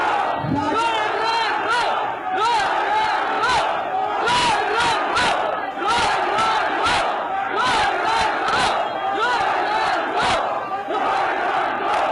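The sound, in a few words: political crowd chanting slogans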